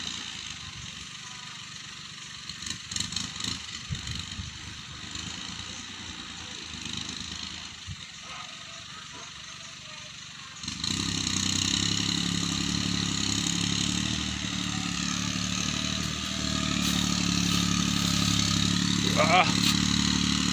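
A Kubota L3608 tractor with a loud exhaust clatters at a lower level at first, then abruptly roars into a loud, steady, close engine drone that holds to the end, with someone talking over it.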